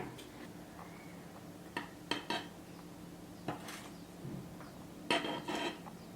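Onion being chopped with a knife for a Thai fried egg tofu dish, a few scattered sharp knocks and clatters against a board, with quiet gaps between bursts.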